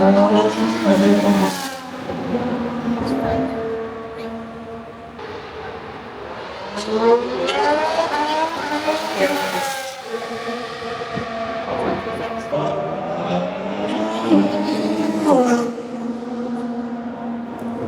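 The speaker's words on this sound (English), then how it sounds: "Good to see some cars on track, which is good." Formula 1 cars at an Abu Dhabi track test pass repeatedly, each one a loud high-pitched engine whine rising and falling as it sweeps by, with several passes in succession.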